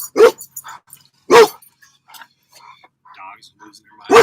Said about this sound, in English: Dogs losing their minds.